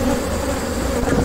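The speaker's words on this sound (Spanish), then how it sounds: "sí vemos las abejas un poquito más inquietas, y esto es una de las colmenas más mansas que tenemos" Honeybees buzz steadily and densely around an open, normally gentle hive, a close, continuous agitated hum with no voices.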